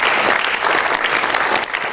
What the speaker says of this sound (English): How about a round of applause for Coach Sharon for setting this up?